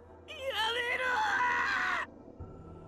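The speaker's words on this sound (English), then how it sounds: "She screamed and shook as her neck was sliced open." A single high-pitched woman's scream in the visual novel game Chaos;Child as her neck is sliced, loud and wavering, lasting nearly two seconds before cutting off abruptly.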